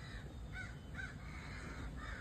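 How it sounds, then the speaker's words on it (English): Several crows caw outdoors at a distance, with three or four short hoarse calls spaced about half a second apart over a faint steady background hiss. "oh, crows."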